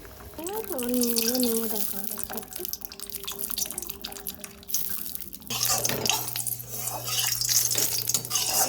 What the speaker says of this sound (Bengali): এবার আমি জলটাকে ভালো করে ছেঁকে নিংড়ে ফেলে দেব